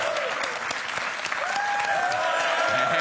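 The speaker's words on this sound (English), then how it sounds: "he's getting the crowd riled up" Crowd applauding and cheering at a Clash of Clans esports tournament semifinal, dense sustained clapping filling the whole stretch, with faint whistle-like cheers rising over it.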